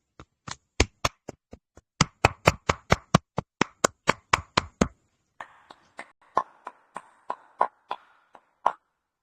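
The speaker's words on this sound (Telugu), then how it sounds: "ఒకసారి గట్టిగా క్లాప్ చేద్దాం సార్" Loud, sharp claps from a small audience, close by, in a steady run of separate hand strikes that thins into softer, scattered clapping near the end; no talking.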